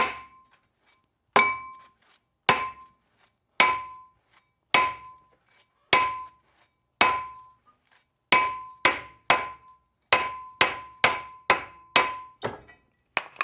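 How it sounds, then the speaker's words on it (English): A hammer strikes the seized top hat of a front brake disc on a Renault Scenic 3, about fifteen loud ringing metallic blows, widely spaced at first and then quicker, each with a short resonant ring. "we're gonna hit on the top hat on the disc"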